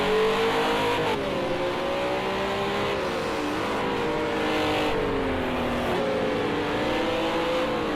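A Renault RS 01 race car engine in Project Cars 2 on the racing game's track screams at high revs, with pitch rising and dropping through gear changes, loud and continuous.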